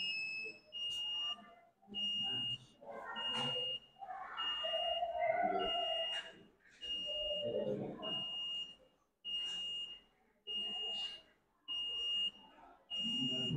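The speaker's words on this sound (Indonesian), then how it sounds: "Ini buzzer-nya hidup." A buzzer on an ATMega328 microcontroller board sounds in repeated short high-pitched beeps at an even rhythm, with someone talking in between and over some of them.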